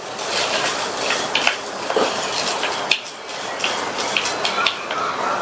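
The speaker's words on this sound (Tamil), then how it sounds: "இதையும் லோ ஃப்ளேம்ல வச்சு ஒரு 2 நிமிஷத்துக்கு வறுத்துக்கங்க." Curry ingredients with tamarind roasting in a pan over a low flame, heard as a steady dry frying hiss with scattered scraping and clinking of a spoon against the pan, close and continuous.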